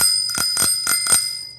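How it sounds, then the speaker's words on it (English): A bicycle bell rings four times in a quick, even series, each ring bright and close with a lingering metallic shimmer. "We can do this by either ringing our bell"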